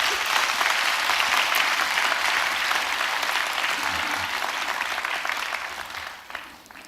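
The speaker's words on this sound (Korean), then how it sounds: "우리 다시 한번 격려의 박수를 한번 크게 보내주십시오." A church congregation gives a Sunday service a sustained round of dense applause, loud and steady for several seconds before tapering off toward the end, with no talk over it.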